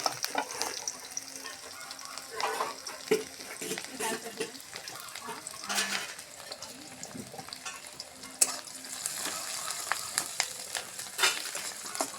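Cumin, onion, green chili and chopped garlic fry in a pan with a soft, steady sizzle, broken by stirring scrapes and clatters and the occasional splash of water.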